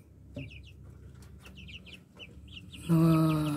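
Three-week-old Rhode Island chicks on a farm peep and chirp in quick, high repeated bursts, moderately near, before a loud sustained tone cuts in at the end.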